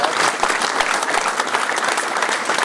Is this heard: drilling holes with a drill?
no